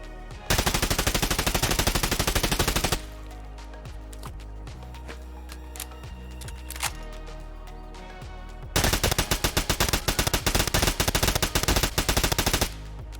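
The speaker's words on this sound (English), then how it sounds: "Here's the same test with a G36." A G36 rifle fires in a video game in two long, rapid full-auto bursts, loud and close, separated by a quieter stretch of softer game sounds.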